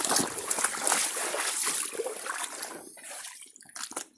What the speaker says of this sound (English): Pour some still water.